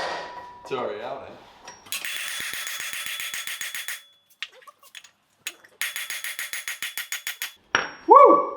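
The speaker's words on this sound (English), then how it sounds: "Give me the bigger hammer." A bigger hammer pounds on parts of a 999cc V-twin CVT in two long runs of quick, ringing metallic blows, close and loud, with a few isolated knocks between and a brief exclamation at the end.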